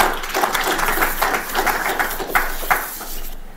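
Audience clapping at a live event, a steady smattering of hands with a few sharper claps standing out, fading out near the end.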